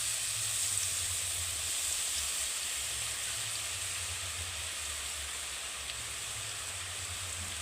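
Gram-flour boondi batter dripping through a slotted ladle into hot oil, giving a steady, even frying sizzle and hiss that holds without break.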